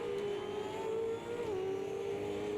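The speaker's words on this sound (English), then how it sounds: "I'll just go chase cam so people can enjoy the engine sounds." A V8 Supercar in Automobilista 2 at Bathurst heard from a chase camera, a steady droning engine note holding pitch then dipping briefly before settling, continuous and moderately loud.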